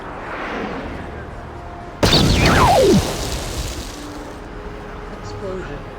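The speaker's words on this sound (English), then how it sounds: "explosion." A sudden loud explosion from the Star Wars: Knights of the Old Republic video game bursts in after a quiet stretch, with a falling whistle and a rumbling tail that fades over about a second.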